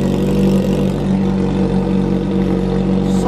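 A Honda CB 1000 motorcycle with a straight exhaust pipe runs loud and steady, its deep, rough drone close and continuous throughout without a distinct start.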